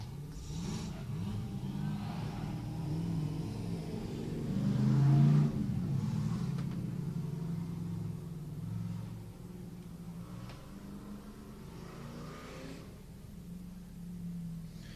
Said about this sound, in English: moving on to our top 32 is Darian Weber in the black BMW